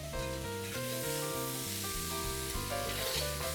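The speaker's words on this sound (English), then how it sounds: "And let's give it a nice stir." Bacon, potatoes and peppers sizzle steadily in a frying pan while being stirred, a continuous hissing fry with soft scraping underneath, against a background of continuous tonal music and no voices.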